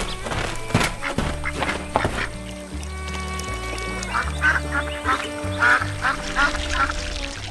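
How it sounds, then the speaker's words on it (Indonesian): Cartoon waterfowl quack and honk repeatedly as a white goose splashes about in a lake, with bright musical tones and clip-clop effects layered in a busy animated soundtrack. "seekor angsa putih muncul dari belakang, melompat-lompat di air"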